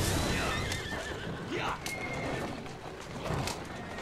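In Assassin's Creed Syndicate a horse neighs and gallops, hooves clattering steadily under repeated whinnies across several seconds, close up amid busy game ambience, with a voice talking over it.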